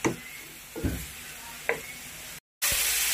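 Pork frying in oil in a pan, with a steady sizzle and a few louder stirring scrapes, cut by a brief silent gap near the end.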